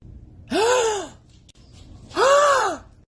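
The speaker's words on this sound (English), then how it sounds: "Gasp dramatically." Someone gasps dramatically at a dog, two loud, drawn-out sharp inhales close by with a brief pause between them.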